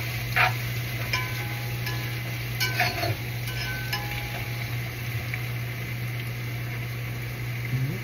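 Blended garlic frying in a pan for bhuna khichuri, a low steady sizzle with a few light stirring scrapes and clinks, close and fairly quiet over a constant background hum.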